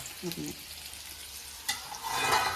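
Steady hissing sizzle of surmai (kingfish) frying on a full griddle pan, with a brief clatter midway and the sizzle swelling louder toward the end.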